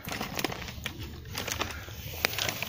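A bird, apparently a pigeon, coos outdoors among soft rustling and light clicking handling noises, the calls fairly faint and intermittent across a few seconds.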